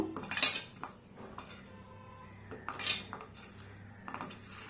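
Pumpkin pieces are tossed with salt in a bowl, giving faint, intermittent clinks and scrapes of utensils against the dish in several short bursts.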